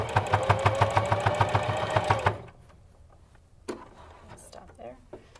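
A sewing machine stitches a fabric mask in a fast rhythmic run of needle thumps for about two seconds, then stops. A few quieter handling clicks follow, and a voice speaks close by.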